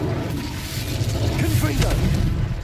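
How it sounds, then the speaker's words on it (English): Fire spell cast in Hogwarts Legacy, a dense roaring whoosh of flame with low rumbling body lasting a few seconds, steady and loud throughout. "Incendio."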